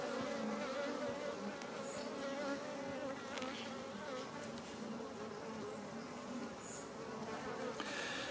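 Buckfast F1 honeybees buzzing inside a young colony's hive, a dense steady drone that stays close and continuous without speech.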